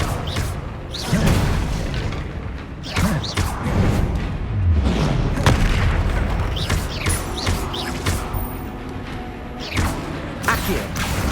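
Confringo blasting spell explosions in the video game Hogwarts Legacy, with loud booms, thumps and whooshes recurring through a hectic fight, with speech underneath.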